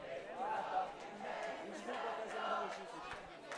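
Faint crowd at a quidditch match in a stadium, a low swell of cheering and chants mixed with a commentator's voice talking over it.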